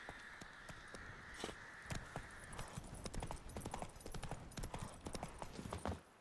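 Hooves of Roach, a horse in a video game, clip-clop in a quick, steady gallop rhythm over game ambience, close and continuous throughout.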